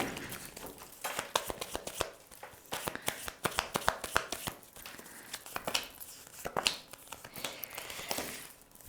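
Tarot cards are shuffled and handled up close, giving rapid, crisp flicks and slaps in a busy, uneven stream with faint room noise underneath.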